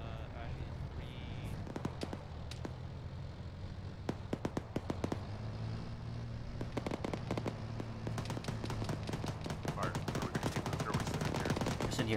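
Rapid automatic gunfire and single shots in an Arma 3 battle, some bursts close and sharp, others distant, firing in irregular clusters that grow denser toward the end, with radio-style voices talking underneath.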